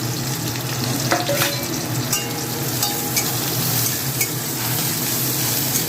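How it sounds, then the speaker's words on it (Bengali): Chopped onion, garlic and ginger fry together in a hot pan, giving a steady, close sizzle broken by the scrape and clink of stirring, with no voices. "তারপর আমি দিয়ে দিলাম পেঁয়াজ কুচি এবং রসুন কুচি, আদা কুচি সব একসঙ্গে মিলিয়ে দিলাম।"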